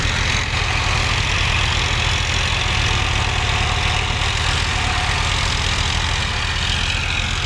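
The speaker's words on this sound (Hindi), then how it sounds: "ये ओपीटीओ बंद कर लिया है, ट्रैक्टर निकलने लगा है।" An Eicher tractor engine runs in a paddy field with its PTO switched off, giving a loud, steady, rough idling drone with a faint knocking texture, close by and alone without talk.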